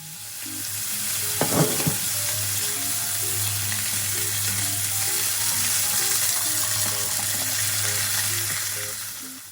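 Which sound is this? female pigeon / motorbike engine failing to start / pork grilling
pork grilling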